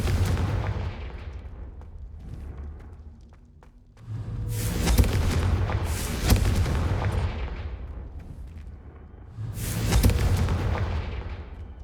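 Three loud fiery blasts from the Confringo explosion spell in Hogwarts Legacy, each a booming burst with a roaring tail, spaced a few seconds apart over a low rumbling background.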